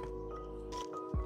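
Water is drained from an aquarium tank, heard as a low steady gurgling hum with a brief wet squish near the end, quiet and with nobody talking.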